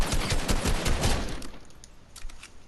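Rapid bursts of automatic fire from a drum gun in the Fortnite video game, a dense rattling volley that thins out toward the end.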